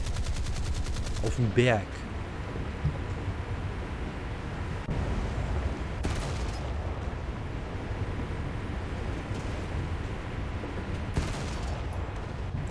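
Naval combat in War Thunder, with steady rapid gunfire and machine-gun bursts rattling under a continuous low rumble of distant battle, punctuated by a few sharper volleys; a voice speaks briefly near the start.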